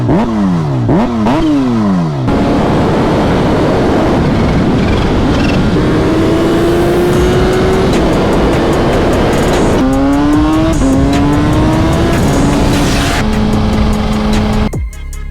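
A supercharged Kawasaki Ninja H2 on a street ride screams loudly through several hard gear pulls, its pitch rising and dropping at each shift, with sharp revving blips at the start and no talking.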